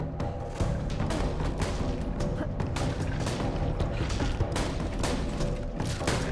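Rapid gunfire in the video game Borderlands 2, with dense bursts of shots cracking over a constant loud backdrop of game action and effects.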